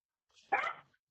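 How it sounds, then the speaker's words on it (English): A dog gives a single short bark somewhere in the background of a quiet indoor room, a brief faint yelp standing alone. "And that's my dog barking in the background."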